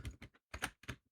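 Quick bursts of computer keyboard typing, close and fairly quiet, in short clustered clicks with brief pauses between.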